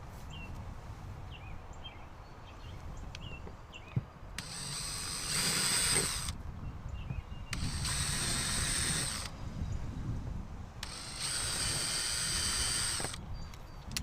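A power drill pre-drills screw holes for a spray port flange on an Alliance Avenue 32RLS camper, whirring in three sustained runs of a couple of seconds each, separated by quieter pauses with faint ambient noise.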